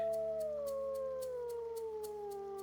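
A wolf howl in a wilderness survival video game rings out as one long, loud, sustained cry whose pitch slides slowly downward, steady over faint ambient game sound with no talking.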